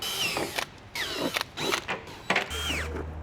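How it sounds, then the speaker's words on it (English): A power drill with an 8mm bit whirs in short bursts as it bores pilot holes for a front splitter kit on a Hyundai Sonata N Line, with brief pauses between runs and a steady low hum near the end. "take your drill and your 8mm drill bit, pre-drill them with this one"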